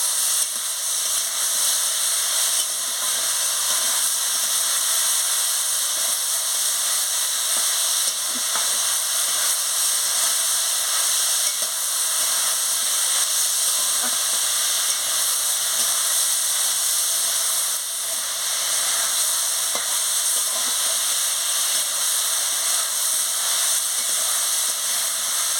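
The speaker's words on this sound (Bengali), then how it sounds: "দিয়ে ভালো করে আনাজটাকে কষিয়ে নিচ্ছি" Pointed gourd, potato and vegetable stems fry in a pan with a constant, close hissing sizzle, steady and unbroken for the whole stretch, with faint occasional stirring.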